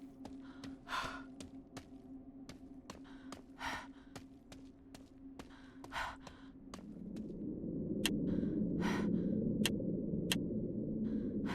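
A character in the video game Fearful Symmetry breathes heavily while moving through a greenhouse area, with repeated sharp gasping breaths every half second or so over a low steady hum, near and fairly quiet.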